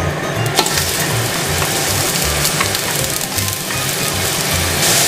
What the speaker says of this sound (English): you just want to saute the garlic and onions so it gets nice and softened